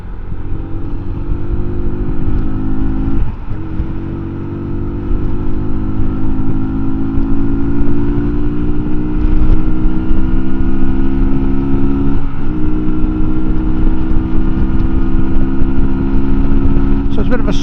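A 2024 MUTT 125 adventure motorcycle cruises along a dual carriageway, its small single engine droning steadily with a rising pitch as it slowly gathers speed, wind rush constant throughout and a couple of brief gear-change dips.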